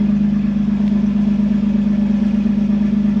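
A vehicle's custom driveline runs on a lift, shifting through transfer case gears, giving a steady, loud mechanical drone with a strong low hum and a faint rhythmic clatter, unbroken for the whole stretch.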